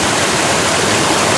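Fast, turbulent water of the Ogosta river rushes steadily past a gold sluice box, a loud, close, unbroken broadband roar with no voices.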